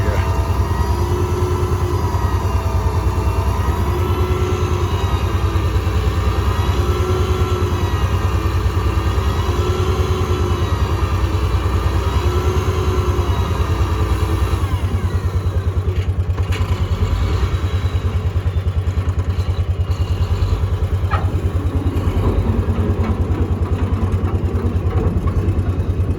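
A motor runs steadily and loudly while a cable is released, a continuous engine-like drone with rhythmic clatter, shifting to a rougher, noisier texture partway through.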